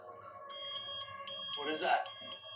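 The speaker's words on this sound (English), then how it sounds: "Is that a fire alarm or something?" A fire alarm in a Walking Dead episode rings in repeated high electronic tones with short gaps, moderately faint, with a voice cutting in briefly near the middle.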